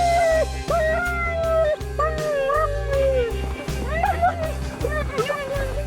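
A dog wearing a head halter whines and howls in rising, wavering cries, loud and close, repeated many times with whimpering between them, under a low rumbling background.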